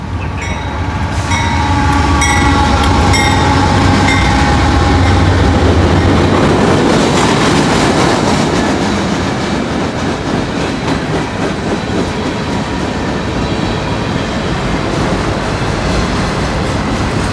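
A long, loud freight train with six locomotives rumbling steadily past up close, wheels clattering and steel grinding without pause, a horn-like tone fading early on.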